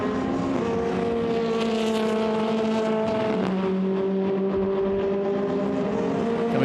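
Formula Renault Eurocup race cars battling at Silverstone, loud sustained high-revving engine whine with shifting pitch as several cars pass close together.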